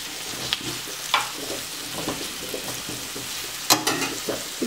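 Steady sizzling of zucchini strips and feta frying in a pan, with occasional scrapes and stirring clinks, close and moderately loud, no voices.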